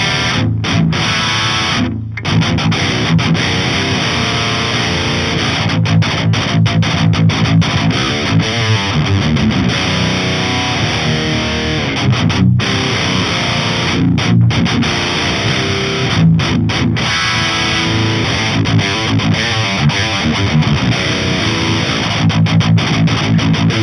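A distorted metal electric guitar riff runs through a simulated ENGL Savage amp with an overdrive in front, in Audio Assault ReAmp2. The chugging is loud, dense and sustained, with tight palm-muted stops and choppy rhythmic gaps.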